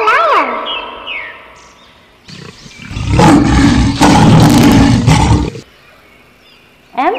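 A lion roars once loudly for several seconds in the middle, set between brief birdlike chirps and tonal sweeps of a children's alphabet song.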